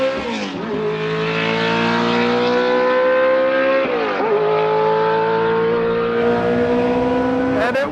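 An F2 race car engine screams up through the gears, loud, buzzy rising revs broken by three quick upshifts, heard close from on board.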